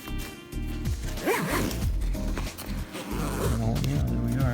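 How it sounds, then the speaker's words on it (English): An Osprey Escapist 18 backpack packed full of camera gear is zipped shut, with a close, scratchy run of zipper teeth in several tugging pulls over faint background sound. "Now can we zip it up?"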